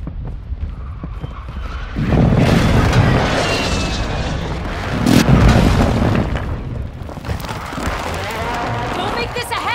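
Heavy airstrike explosions in Call of Duty Modern Warfare II Resurgence, a deep booming rumble that swells after two seconds and peaks again near five, with players talking over the blasts.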